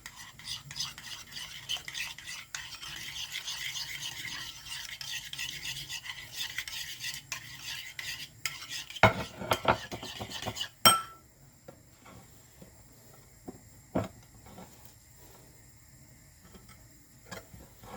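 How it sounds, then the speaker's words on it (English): Potato salad ingredients with apple being stirred in a bowl with a utensil, soft continuous scraping and mixing at close range, followed by a few sharp clinks and quieter taps. "Let's give this a mix."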